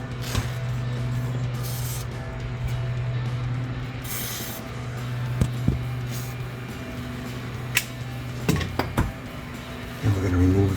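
A steady hissing spray from a WD-40 aerosol can runs for several seconds over a low mechanical hum, with a few short clicks and bursts toward the end, while working on a 1999-2004 Mustang GT exhaust.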